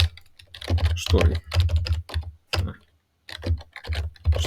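Rapid typing on a computer keyboard, close clicking keystrokes in bursts with a brief pause, heard under someone talking.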